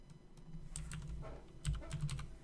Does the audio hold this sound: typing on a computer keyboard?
yes